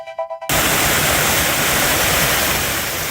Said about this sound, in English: Hear the water just rushing there.